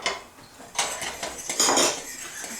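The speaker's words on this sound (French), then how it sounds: "j'ai enlevé un petit peu la casserole du fourneau parce que ça bouille" Cooking pot of boiling food pulled partly off the stove, giving a few close metallic clanks and scrapes of pan against burner in quick succession, with no speech.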